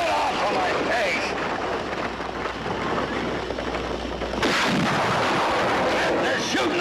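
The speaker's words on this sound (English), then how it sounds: "They're shooting at ya!" Gunfire in a 1960 western TV episode, with heavy, continuous booming shots and rumble filling the soundtrack, loud and dense, while shouting voices mix in.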